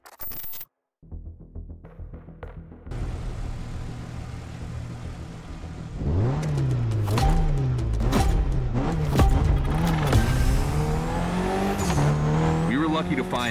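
A Mitsubishi Lancer Evolution 9 drives in The Crew Motorfest racing game, its engine revving and rising through gears with tire squeal, following a quiet stretch where a voice speaks.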